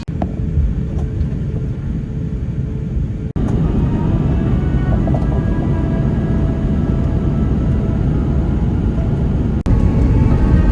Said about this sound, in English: We're on our descent into Perth.